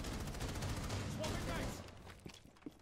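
Hip-fired weapon in Rainbow Six Siege, a dense, loud stream of rapid gunshots for almost two seconds, then a quieter tail with a couple of isolated impacts, heard alone without voices.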